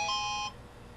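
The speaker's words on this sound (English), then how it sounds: "I got a text message." A phone text message notification gives a brief bright electronic beep tone lasting about half a second, then cuts off to quiet room background.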